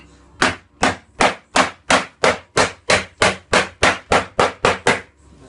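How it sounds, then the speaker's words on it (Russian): A hammer straightens a metal part with about fifteen loud, evenly spaced blows in a quick steady rhythm, each ringing briefly before the next, with no talking. "Сейчас мы его выпрямим. А ну, молотком надо припиздить."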